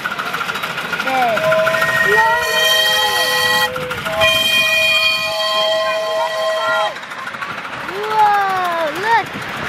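A small train on the Eastbourne Miniature Railway rumbles along the tracks and sounds a whistle, while people talk and call out nearby.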